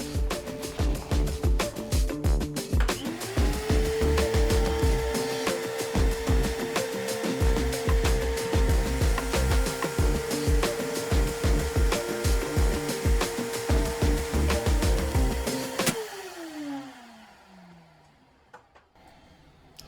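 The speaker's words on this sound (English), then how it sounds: "turn on the vacuum, and then pull it over" A vacuum motor whines steadily amid rattling and clatter, then abruptly cuts out and winds down to near silence as it blows a circuit.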